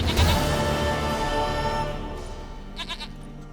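Goat in The Witcher 3 bleats loudly at the start, a wavering nasal cry, followed by quieter game ambience and a few faint short bleats near the end.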